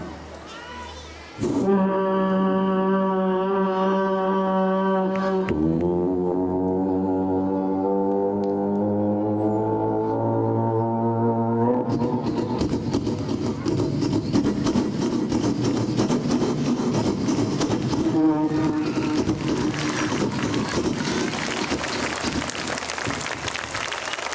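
A voice imitates an approaching electric train with a long rising hum and whine that swells into a rushing, rasping roar, loud and sustained, at a school annual day.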